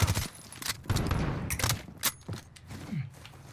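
Gunfire in the video game Call of Duty: Warzone. Scattered, sharp bursts and single shots crack at varying distances, fairly faint, with a few thuds mixed in and no talk.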